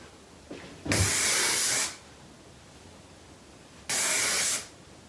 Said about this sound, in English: it's an aerosol, and it's made for synthetic fibers